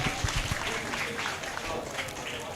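An audience at a legacy program at TBS Cricket Oval applauds in a steady, dense wash of clapping that holds for the whole stretch, fairly distant and even in level, with faint voices mixed in.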